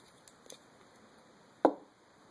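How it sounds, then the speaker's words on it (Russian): A LEGO Star Wars TIE Interceptor (set 75031) model is turned over on a surface, making one short, fairly close plastic clunk near the end, with a few faint taps before it and no talk. "Дальше мы ее снова переворачиваем."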